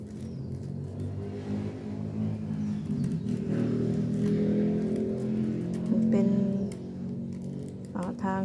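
Continuous road traffic rumbles nearby, with vehicles passing and a low engine drone throughout, plus faint bird chirps above the noise.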